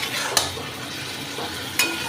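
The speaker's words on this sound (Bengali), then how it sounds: "এমনি ভাজতে ভাজতেই রান্নাটা করব।" Salted vegetables sputter and fry in a pan, releasing water, with a constant sizzle broken by two sharp scrapes of a spoon stirring against the pan.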